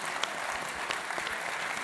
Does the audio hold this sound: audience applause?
yes